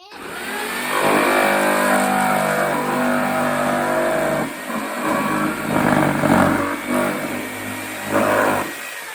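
Jigsaw cutting a plastic bucket in half, a loud close buzzing saw roar that runs continuously with fluctuating intensity and a few dips as the blade works through the plastic.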